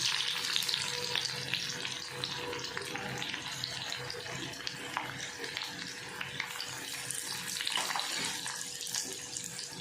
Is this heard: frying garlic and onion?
yes